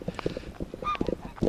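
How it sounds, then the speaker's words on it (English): Geese honk in a cluster of quick, nasal calls, several birds close by, with footsteps or clattering mixed in between the honks. "I got some geese to go around here."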